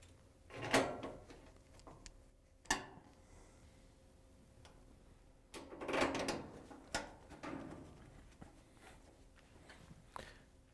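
A Phillips screwdriver drives screws into the covers of a Whirlpool/KitchenAid/Maytag appliance, giving quiet clicks, scrapes and ratcheting taps in irregular bursts, close and faint, with no talking.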